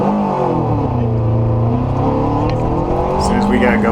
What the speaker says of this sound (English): I kept my foot on the gas to keep the revs up, just waiting for our start time.